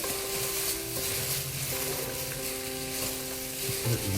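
Kimchi cabbage is tossed and turned by hand with its seasoning, making a close, continuous wet squelching and rustling with soft crunches. No one speaks.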